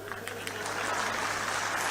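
Audience applause at a stage event with a poet and politicians present, a steady burst of clapping from a crowd that swells and holds for about two seconds.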